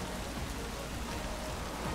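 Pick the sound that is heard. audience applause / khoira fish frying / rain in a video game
rain in a video game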